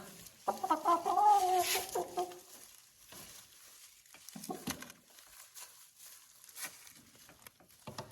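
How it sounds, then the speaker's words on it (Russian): A small brown hen clucks close by after laying an egg, giving a loud run of rapid clucks followed by quieter, scattered calls and light rustling. "Видите, кто несет? Самая маленькая курочка. Коричневая курочка снесла."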